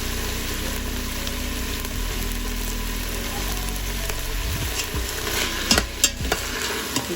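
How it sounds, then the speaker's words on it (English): Gandules soup ingredients sauté in an Instant Pot, a constant low sizzle and hum with a few clinks and scrapes of stirring toward the end, close and unaccompanied by speech. "after I'm done sauteing for a couple minutes"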